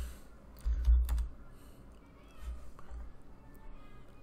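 A few quiet keyboard keystrokes in short clusters, with soft clicking over a low hum in a quiet room and a faint voice in the background.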